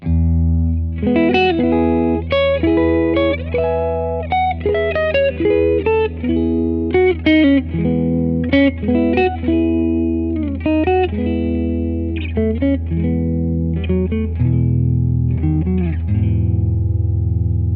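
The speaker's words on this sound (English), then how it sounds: "I'm just going to hold out an E drone for this." A distorted electric guitar plays a loose improvised line with ringing notes and short bursts, over a steady low sustained E drone, with no talking.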